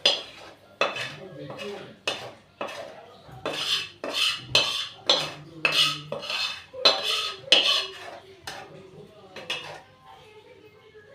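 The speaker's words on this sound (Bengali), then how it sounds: "তা আমি থালার মধ্যে ঢেলে নিচ্ছি।" Aloo matar curry scraped out of a pan onto a plate, a run of loud metallic clanks and scrapes from a spoon against the pan, close and rhythmic, with a voice speaking briefly amid the clatter.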